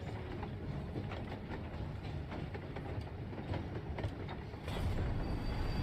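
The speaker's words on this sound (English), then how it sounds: "Is that a train?" A train rolls past in the Final Fantasy XIV Stormblood Omega questline, a steady rumbling clatter of wheels on rails that holds for the whole stretch and swells louder near the end.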